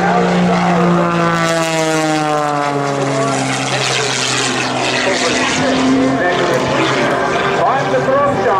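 A propeller aerobatic airplane flies an inside-outside loop with a double at the top at an airshow, its engine droning loudly and steadily with shifting pitch as it maneuvers, under a commentator's voice over the PA.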